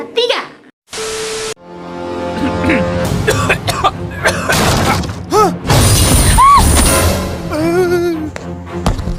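A person coughs in a Bodrex flu and cough medicine advert, with dry coughs and throat sounds mixed among crashes, effects and spoken lines from other voices.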